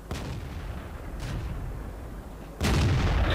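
Sharp cannon blasts from a VK tank in the World of Tanks video game: three shots spaced over a few seconds, the last loud and booming, each followed by a heavy rumbling tail.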